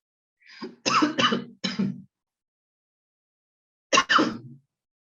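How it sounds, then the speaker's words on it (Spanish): A few sharp, harsh coughs from a lecturer in a quick burst, then a pause and two more coughs, close and fairly loud with no talking. "Perdón, pero me dio tos"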